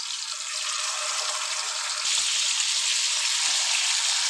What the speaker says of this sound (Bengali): ওই তেলের মধ্যে আমি চিকেনটাকে ভেজে নিচ্ছি।